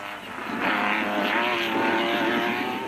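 A rally race car at the Carnival City 400 screams under hard throttle, its engine note rising steadily and holding loud and close for a few seconds, with no talk.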